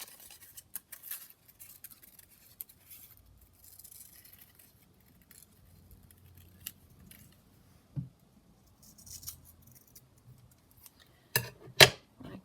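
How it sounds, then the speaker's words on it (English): Scissors snipping a circle out of a brown paper bag, quiet, irregular close cuts and paper rustles with a couple of sharper, louder snips near the end. "So I'm just going to cut a circle from the bag."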